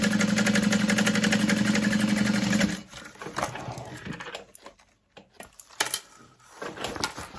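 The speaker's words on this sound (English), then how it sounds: "sewing along the top" A sewing machine stitches along the top edge of tote bag fabric laid right sides together, running in a fast, steady, close whir for about three seconds before stopping, followed by fabric handling and light clatter.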